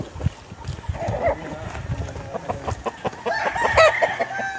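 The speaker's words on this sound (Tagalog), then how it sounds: "Ito yung manok na pula, guys, oh." A red rooster crows and clucks outdoors on a trip, moderately close, over a rough, busy background.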